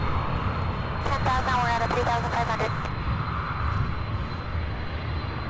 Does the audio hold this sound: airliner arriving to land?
yes